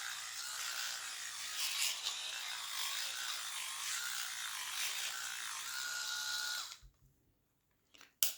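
A Kensen 7D rotary electric shaver hums steadily and close for about seven seconds, a bright buzzing whir that cuts off abruptly, followed by near silence and a small click.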